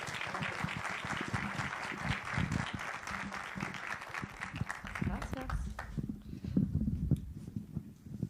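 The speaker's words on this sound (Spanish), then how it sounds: "Así que un aplauso para ella, por favor." An audience applauds a French film director at a Bogotá cinematheque screening, with clapping fading out as a person starts speaking over the tail end.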